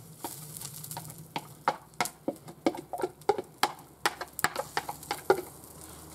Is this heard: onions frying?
yes